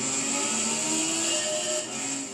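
Engine of a Toyota GT86 in the racing game Gran Turismo 6, a quiet, steady whine holding a fairly constant pitch, heard alone without talk.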